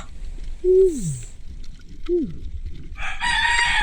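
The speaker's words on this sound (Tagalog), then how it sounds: "Ops, manok." A rooster crows twice, fairly close, with a pause between calls, followed by a burst of clucking and chatter from fowl.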